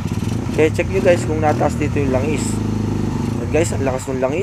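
Kawasaki Barako 175 motorcycle engine idling after an overhaul, a close steady putter running under someone talking throughout.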